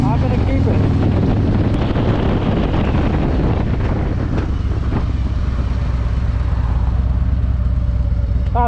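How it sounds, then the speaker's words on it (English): Steady, close wind roar buffeting a rider on a 2024 Harley-Davidson Road Glide with a tall Klock Werks windshield at highway speed, with engine drone beneath and the rider speaking over the noise. "At the highway speeds, the wind is coming up."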